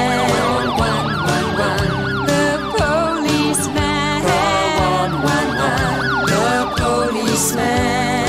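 Police car siren sounding within a children's song about emergency services, its wailing rise and fall running continuously over bouncy music with drums and no talking.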